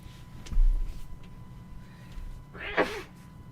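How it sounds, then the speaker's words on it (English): A single sharp sneeze bursts out near the end, close and fairly loud, after a stretch of quiet room noise. "I had to sneeze, you all."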